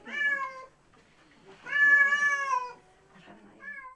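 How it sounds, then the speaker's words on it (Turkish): Cats meow inside a house crowded with dozens of rescued street cats in Elazığ, Turkey: two long, loud, rising meows close by, then a shorter one trailing at the end, with quiet between. "Evde her yer kediyle dolu."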